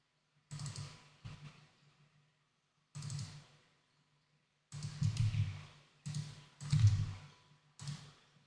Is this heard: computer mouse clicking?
yes